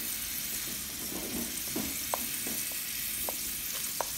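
Garlic, scallion and onion hit a hot pan, giving a loud, even sizzle close by, dotted with a few small sharp pops.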